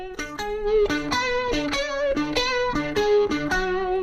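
Electric guitar with distortion plays a quick pedal-tone lick anchored on a low D beneath shifting upper notes, evenly picked, close and loud with no voices.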